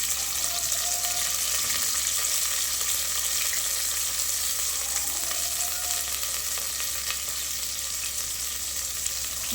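Small onions fry in a hot oil tempering for sambar, an even, continuous close-up sizzle and crackle with no pauses or voices.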